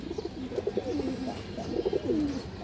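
Coos of an ornamental pigeon with black tail feathers and dark purple feet, an old-line bird, come in two soft bursts of rolling, warbling calls, close by with no talk.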